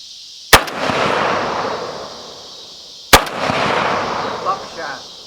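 Two sharp, loud blasts about two and a half seconds apart from a Beretta 1301 Tactical 12 gauge shotgun firing buckshot outdoors, each followed by a long rolling echo and faint background rustle.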